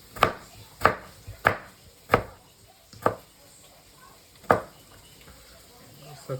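A knife cuts tomato into pieces on a board while making a homemade sandwich, giving six sharp, separate chops spaced about half a second apart, fairly quiet against low room noise with no talk.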